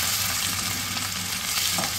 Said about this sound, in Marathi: हिंग आणि आलं लसूण पेस्ट चांगलं तेलामध्ये परतून घ्यायचं आहे